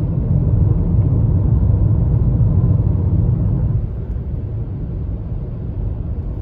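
A 2020 Hyundai Tucson in sport mode, steady low engine and road rumble from inside the cabin that drops in level partway through as the gearbox downshifts, no talk.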